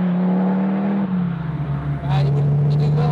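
The engine of a Donkervoort D8 GTO sports car drones in a steady low hum that drops in pitch as it eases off, then holds while a faint higher whine joins; a voice talks over part of it.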